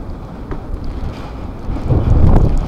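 Strong mountain wind buffets the microphone in Buguias, Benguet, a loud rumbling roar that surges louder toward the end, with no voices.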